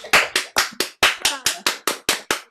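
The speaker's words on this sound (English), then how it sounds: "let's give some applause to Susanne now" Online meeting participants applaud a departing guest after a Beethoven birthday concert: about a dozen sharp, close hand claps in a steady, slightly uneven rhythm, each with a quick decay, with a faint voice briefly underneath.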